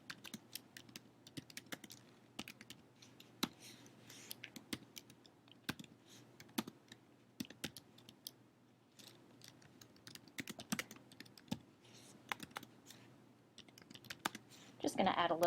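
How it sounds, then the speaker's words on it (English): Text is typed on a computer keyboard in irregular bursts of close, crisp key clicks, with short pauses throughout and a soft voice murmuring in places. "I'm going to type in my text."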